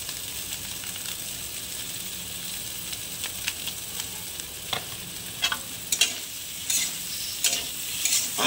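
Potato curry spiced with cumin powder, black pepper and dried red chillies frying in a pan, a steady soft sizzle broken by scattered scraping and clinking stirring strokes that grow a little busier toward the end.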